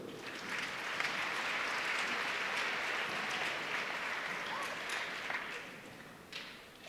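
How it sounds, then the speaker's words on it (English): A crowd in a gym applauds the officials at a girls' high school basketball game, steady clapping that fills about seven seconds before tapering off at the end. "how about a nice round of applause for our officials this evening?"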